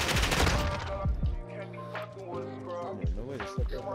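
Video game gunfire fires a rapid burst of shots up front, then a few more sharp cracks later, with a voice talking in between.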